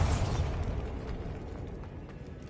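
A Bombarda blasting spell explodes in a Harry Potter video game, a loud booming burst at the start that decays into a rumbling, crackling tail.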